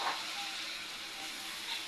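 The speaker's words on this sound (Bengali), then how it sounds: "এবার খুব ভালোভাবে কষে নিতে হবে টমেটোর গলে যাওয়া পর্যন্ত" Tomatoes and spices sautéing in a pan for a Bengali pangas fish curry give off a steady, close hiss of sizzling with no talk over it.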